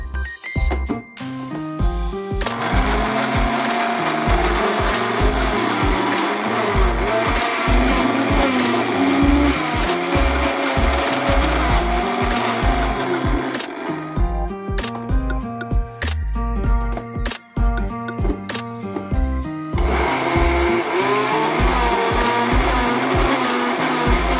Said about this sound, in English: begin to notice the mayo thickening from the sound of the blender